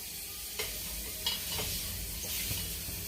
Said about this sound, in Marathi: खोबरंही आता गुलाबी रंगावर परतून झालेलं आहे